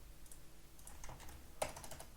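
Quick, light keystrokes tap on a computer keyboard during a hacking walkthrough, a short burst of close, quiet typing with one sharper click partway through.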